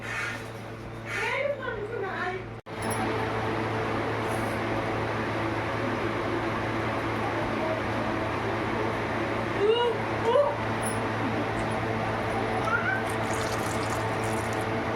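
Water is poured steadily for several seconds in a home kitchen at dinner time. The close, continuous splashing rush sounds like a running tap, and voices and a brief small animal-like cry can be heard over it.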